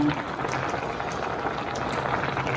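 A pot of lentils for bisi bele bath boils steadily and close, a continuous bubbling burble with no talk over it.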